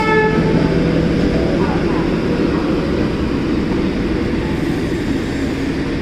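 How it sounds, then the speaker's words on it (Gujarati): An Indian Railways express, the Vadodara Saurashtra Mail, rumbles past close by in a loud, continuous roar of wheels and carriages that fades slightly toward the end, with a faint horn-like tone early on. "આવી ગઈ છે આપણે ભારતીય rail Vadodara Saurashtra mall express જોઈ શકો છો તમે"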